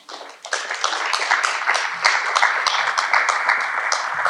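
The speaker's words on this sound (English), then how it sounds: "And another round of applause, if we could, for Dee" An alumni weekend audience breaks into applause, many hands clapping densely and fairly close, starting quietly then swelling to a steady, full round that carries on to the end.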